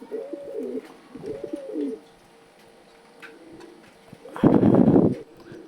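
Pigeons kept for sale coo in two soft, rolling phrases, then a quiet pause, then a louder, rougher burst near the end.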